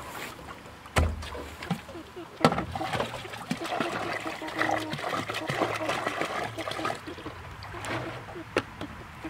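Water splashes and trickles steadily from a bottle into a chicken waterer on a homestead, a continuous close pour with a few knocks and thumps of handling.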